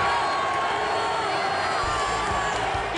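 A stadium crowd at a Brazilian league football match roars after a goal, a dense, continuous wall of cheering and shouting from a large distant crowd, with a commentator's voice faintly over it.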